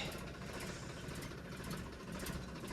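Tractor engine idling on a Punjab farm, a steady close diesel rumble with constant low throb and even vibration, no voices.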